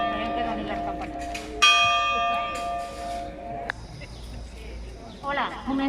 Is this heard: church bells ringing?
yes